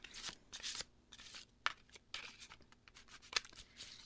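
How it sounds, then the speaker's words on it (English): A deck of oracle cards being shuffled by hand in small clumps, close and quiet, with soft repeated riffling bursts and light card taps spaced irregularly over a few seconds. "Usually I just end up like kind of sticking little clumps of cards in different places. That's how I shuffle."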